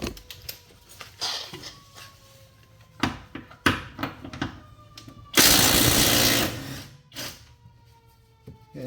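A nut spun on a 19 mm bolt during lower control arm work on a 2007 Santa Fe: scattered metallic clanks and taps, then one loud, sustained whirring burst of about a second before quieter tool noises resume.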